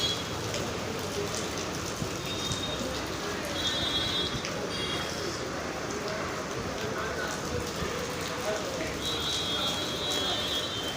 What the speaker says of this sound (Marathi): हा पाऊस आजही असा सुरू राहतो की काय अशी नागरिकांना चिंता लागून राहिली आहे.